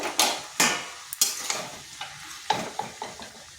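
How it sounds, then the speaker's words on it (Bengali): Bottle gourd with masoor lentils and spices is stirred in a pan, a spoon scraping in repeated sharp strokes over a soft, continuous sizzle, close and without voices. "লাউটা খুব ভালোভাবে মিশিয়ে নিচ্ছি"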